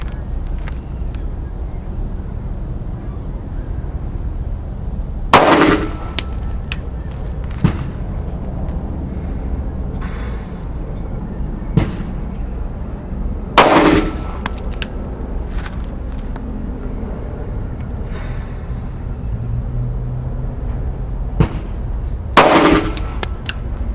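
Three sharp 9mm pistol shots from a Sig P365XL at a shooting range, spaced several seconds apart and loud and close, over a steady outdoor background rumble.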